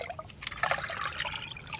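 A curd and coconut liquid fertilizer mixture poured onto vegetable plants, giving a soft, close trickling and dribbling of liquid that splashes faintly and unevenly throughout.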